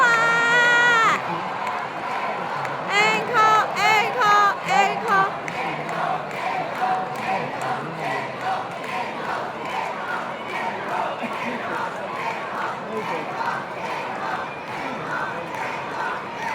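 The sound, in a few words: concert audience cheering and applauding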